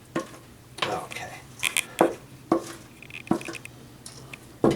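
Spatula spreading banana bread batter flat in a baking pan, heard as several short, close scraping and tapping strokes against the pan at an irregular pace, with no talk.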